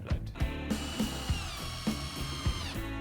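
Cordless drill driving a screw through a wooden corner brace on a DIY bin shelter. The motor whines steadily while the clutch ratchets in a regular rhythmic clicking, close and moderately loud.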